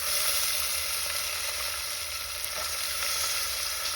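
Green peas and pigeon peas sizzle steadily in a hot pan of tempered oil with curry leaves, green chillies and garlic, a close, even frying hiss with no one talking.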